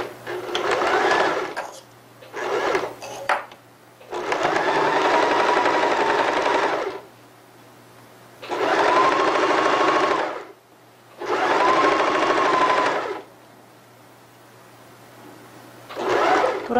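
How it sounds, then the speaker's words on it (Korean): A sewing machine runs in four loud bursts of two to three seconds each, stitching bias tape onto a newborn's baby jacket, with short pauses and brief start-stop runs between the stretches of stitching. "바이어스 1차 박음질을 하겠습니다"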